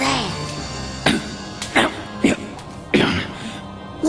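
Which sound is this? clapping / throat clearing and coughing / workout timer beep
throat clearing and coughing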